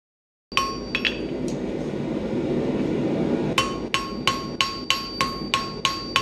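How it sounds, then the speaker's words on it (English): Hammer strikes on a forged steel S hook, used to smooth out hammer marks and true it up. A stretch of noisy scraping comes first, then a steady series of sharp ringing metallic blows, loud and close. "you see me hammering on it, all I'm doing is taking out some of the hammer marks and truing it up"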